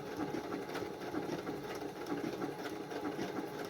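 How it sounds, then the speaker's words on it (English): A sewing machine runs steadily as its presser foot feeds fabric through, a continuous close mechanical whir with a fast rattling stitch rhythm and no talking. "do allow the presser feed to pull your fabric for you"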